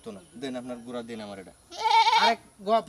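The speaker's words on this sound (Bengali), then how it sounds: "এটা ছাগল" Goat bleating loudly in a wavering cry close by, with a second shorter bleat after it, while people talk around it during a livestock sale.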